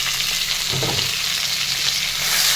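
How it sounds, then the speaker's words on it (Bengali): Potatoes, onion and tomato fry steadily in a hot pan, giving a continuous close, bright sizzle with a brief stirring rustle near the start and no talking. "তো আবার একটু ভেজে নিচ্ছি।"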